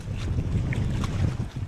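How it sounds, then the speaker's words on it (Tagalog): Strong wind buffets the microphone in low, rumbling gusts, with some faint water sounds behind, continuous through the short moment. "Grabe hangin talaga"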